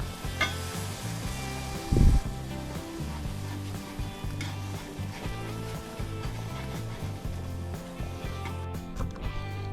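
Loud continuous sizzling and bubbling of fried flour roux in a pan, with a sudden hissing burst as mushroom soup broth is poured in, then stirring scrapes under the sizzle.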